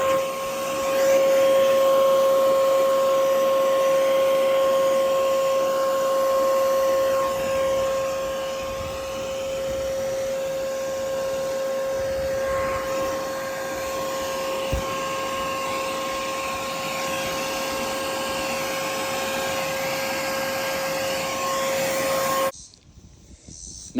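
Air blower running steadily while cleaning a window air conditioner unit, a loud continuous whooshing hiss with a steady whine that holds for over twenty seconds before cutting off abruptly near the end.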